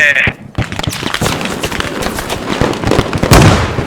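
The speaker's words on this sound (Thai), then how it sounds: "โดนระเบิดแล้ว" Explosion in the tactical shooter game Squad, a loud burst followed by dense crackling gunfire and blasts that continue throughout, with a voice talking over the din.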